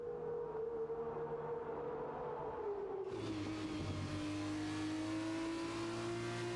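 Formula racing cars on a formation lap in the video game F1 2021, Australia round, with a loud steady engine drone whose pitch sags then climbs as another car's revving engine joins in close by.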